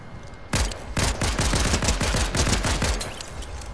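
Rapid, loud gunfire erupts close by, a dense volley of overlapping shots continuing for about three seconds with no pause and no voices.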